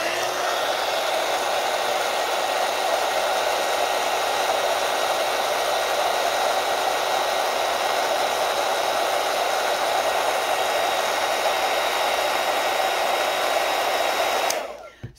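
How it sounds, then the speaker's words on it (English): Heat gun blowing steadily on brush bristles pasted with glue: a loud, constant whooshing hum with a faint motor whine, unchanging for the whole stretch until it switches off at the end. "And then I just hit it with a heat gun."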